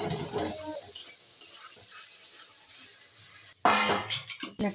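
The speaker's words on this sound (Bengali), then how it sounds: "হলুদ, নুন আর লঙ্কা গুঁড়োটা দিয়ে একটু গোলমরিচের পাউডার দিলাম, দিয়ে এটাকে ভালো করে কষিয়ে নিতে হবে।" Spice paste of turmeric, salt, chilli and pepper is sautéed in a pan with a soft sizzle and stirring, and a burst of louder scraping and clinking of utensils comes near the end.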